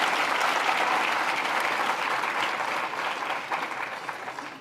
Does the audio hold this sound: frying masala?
no